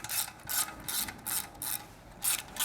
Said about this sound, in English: loosen the muffler clamp using a 10mm socket